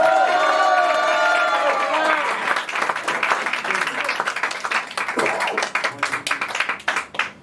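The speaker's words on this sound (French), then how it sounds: "Applaudissez-le, s'il vous plaît." Audience applause for a poet at a poetry performance in Amiens, a dense wash of clapping that slowly thins into scattered claps, with some voices in the crowd.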